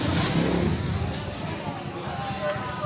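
An L900 drone's motors roar at full throttle while the aircraft flies out of control, a loud, dense broadband whine that swells then eases slightly, with excited voices nearby.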